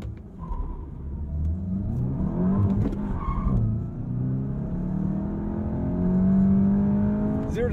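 A 2023 VW Golf GTI S with a manual gearbox accelerates hard through a 0-60 run, heard from inside with loud engine revs climbing and dropping between gear shifts, then pulling steadily higher.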